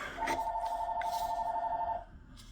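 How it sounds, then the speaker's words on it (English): A telephone rings during an electronics unboxing, one steady electronic trilling tone lasting nearly two seconds, clear and fairly close over a quiet room background. "Oh man, phone's ringing at the wrong time."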